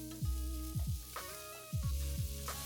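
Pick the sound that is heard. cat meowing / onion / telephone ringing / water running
onion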